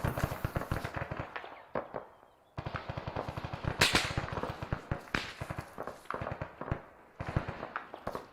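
Gunfire in ARMA 3, repeated bursts of rapid automatic shots, crisp and fairly close, broken by short pauses and a louder crack near the middle, with bursts resuming toward the end.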